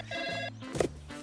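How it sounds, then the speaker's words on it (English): A phone rings in a short electronic trill of repeated tones, clear and close, followed by a brief thump, with no talk. "Oh, that's my phone."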